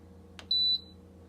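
Single sharp electronic beep from an Instant Pot pressure cooker as its timer button is pressed, a short bright tone lasting about a quarter second after a soft click, alone over faint room hum.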